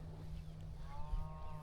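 One of the cattle in a Mashona cross herd gives a low, drawn-out moo from close by, faint and rising near the end over quiet outdoor background.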